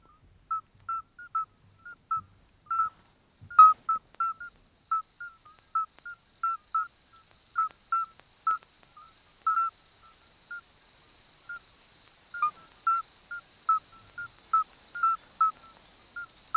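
A male midwife toad calls from his favourite singing spot, giving short repeated piping notes in an irregular series against a quiet night background with a steady high insect-like drone.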